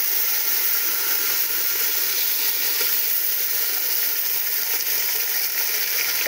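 Steady, loud hissing sizzle as water is poured into a hot pan of tomatoes and green chillies fills the whole stretch, with no talking and no pauses.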